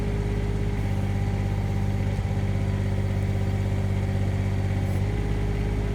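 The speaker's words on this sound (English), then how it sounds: "Can you put it faster, Tom? The auger to go a little faster." A Wild-Cat WC-011 auger engine runs at a steady, faster speed, a loud, even mechanical drone holding constant with a brief knock partway through, close by and without voices.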